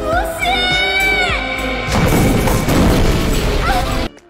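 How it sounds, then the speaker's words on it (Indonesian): A large bomb explosion in the film The Monster Killer: after a few seconds of shouting and raised voices, a loud blast erupts into a long, dense roar of debris and rumble that cuts off abruptly. "Ledakan ini meledak sangat besar."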